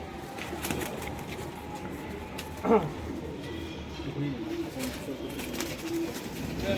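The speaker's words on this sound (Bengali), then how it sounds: "দাদা আবার নতুন কিছু পায়রা নিয়েছে সব হাই ফ্লাইয়ের পায়রা" Pakistani high-flyer pigeons cooing in a loft, soft low coos under a steady background hum, with one brief louder call and occasional light rustles, fairly close but modest in volume.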